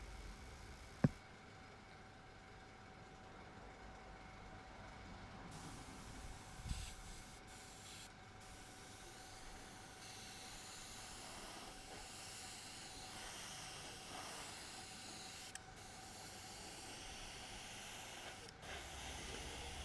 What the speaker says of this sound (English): we're just going to spray over the whole wagon, over the salt and everything, and put a good general coat on.